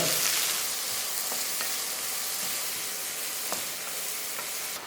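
Chopped onions sauté in a pan for a Sri Lankan fish curry, giving a steady, close frying sizzle with a few faint stirring clicks and no talking.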